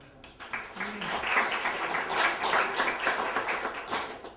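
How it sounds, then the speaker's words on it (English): Audience applause at a comedy roast, a dense wash of many hands clapping that swells and holds steady for several seconds, fairly loud and continuous. "which I think deserves a round of applause"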